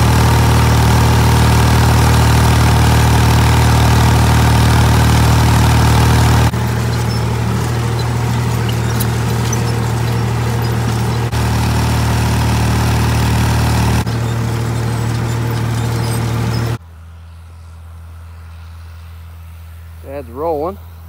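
A tractor engine idles and runs steadily in a sunny field during orchard grass hay planting, a loud continuous low drone that drops to a quieter level near the end, where a brief voice sound appears.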